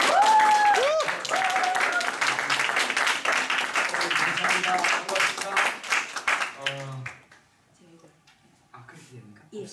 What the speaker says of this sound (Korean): 진짜 뜨거운 박수로 맞이해주시면 감사하겠습니다.